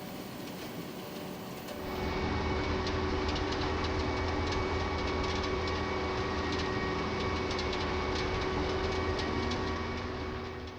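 A ZR5 1200 hay baler with a 200 horsepower engine runs at a field demonstration, a steady mechanical rumble with rapid rhythmic clatter that swells in after a quieter opening and holds evenly, moderately faint and without talk.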